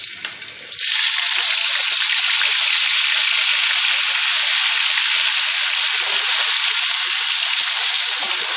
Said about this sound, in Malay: Kita goreng dia sampai garing lah.